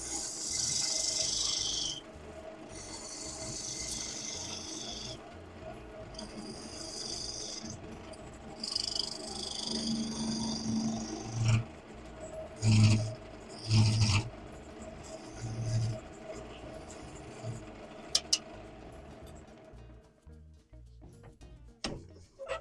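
A bowl gouge cuts wood on a lathe, giving a continuous scraping hiss that rises and falls with a few thumps and bumps. The sound trails off toward the end as the lathe spins down.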